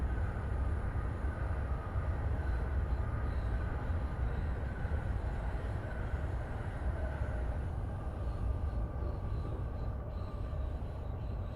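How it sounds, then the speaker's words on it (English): Passing train in the Train Sim Classic game on a Tokyo commuter line, a green train overtaking with steady rolling rumble and rail noise throughout, no speech. "We are being overtaken by the green train."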